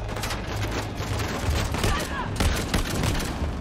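Rapid bursts of gunfire crackle in the action game Uncharted: The Lost Legacy, with dense overlapping shots over a constant rumble of game noise and a voice talking underneath.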